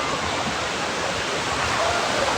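Sea waves wash onto a beach at Ras El Bar with a constant loud rush of surf and spray, close by and filling the whole stretch, with no voices heard.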